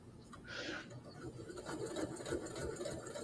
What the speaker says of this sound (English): My sewing machine loves me.